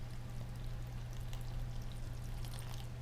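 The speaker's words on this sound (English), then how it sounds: "I put some distilled water in it" Distilled water pours steadily over chopped green onions in a container, a continuous close trickling stream under a low background hum, with no talking.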